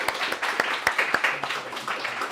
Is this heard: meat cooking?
no